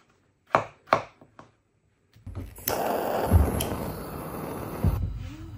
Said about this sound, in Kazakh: кәдімгідей осылай турап аламыз